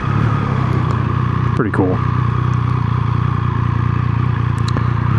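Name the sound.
Triumph Speed Triple 1200 RX motorcycle riding in first gear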